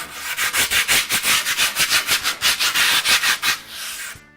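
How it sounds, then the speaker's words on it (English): Sandpaper rubs along the edges of grip tape on a custom skateboard, about twenty quick, even back-and-forth strokes, loud and close, with no voices, slowing to a softer final pass. "I'm going to give it a quick sanding all around so it'll smooth up the edges."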